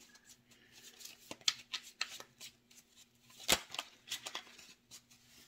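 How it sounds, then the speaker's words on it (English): A deck of tarot cards is shuffled by hand in a quiet room, giving soft repeated riffling and flicking bursts with a few sharper snaps, close and fairly faint. "Let me just kind of shuffle them up just a little."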